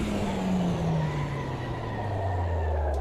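Tyres locking up and skidding under hard braking in a racing sim, a loud continuous screech with a falling engine drone beneath, steady for a few seconds with no talk.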